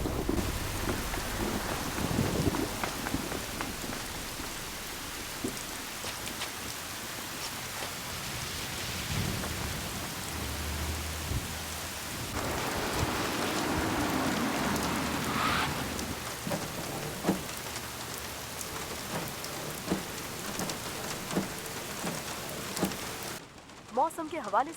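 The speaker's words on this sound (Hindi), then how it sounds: "सियोल का मौसम देख के ऐसा लगता है कि ये बारिश थमने नहीं वाली" Heavy rain pours steadily on surfaces in Seoul, with rolling thunder swelling through the middle; speech is heard faintly under the downpour.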